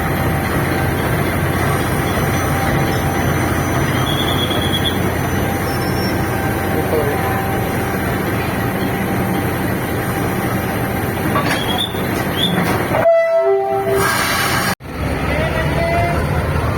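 A Philippine National Railways locomotive on the Tutuban–Alabang line rumbles past close by with steady rolling wheel noise and brief squeals, and a short horn-like tone sounds near the end before the noise cuts out.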